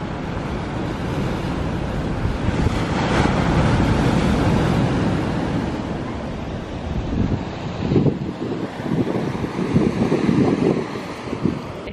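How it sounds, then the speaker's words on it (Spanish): Sea waves wash in along a seaside promenade while strong wind buffets the microphone, a continuous loud rushing roar with swelling surges of surf toward the end. "ahora les voy a dejar unos segundos con el sonido del mar para que disfruten"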